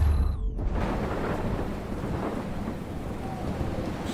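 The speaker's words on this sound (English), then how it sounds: "As you're dealing with the storm over yonder." A thunderstorm in the game Life is Strange rumbles close and heavy, a sharp crack at the start giving way to a continuous roaring wash of rain and thunder with no talking.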